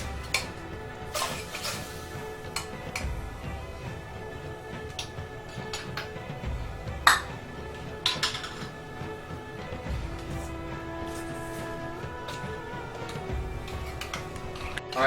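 Jelly is stirred in a pan over a low flame, with quiet, scattered scrapes and light metallic clinks at an uneven pace, fairly close but soft.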